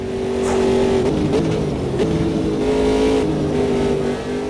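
Race car engine in the Automobilista 2 sim racing game, on fresh tires, drones loudly and continuously as it laps, pitch rising and dipping through gear changes and throttle shifts.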